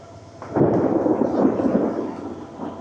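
A deep rumble of thunder from nearby lightning rolls in close and loud, sustained for a couple of seconds before fading slightly.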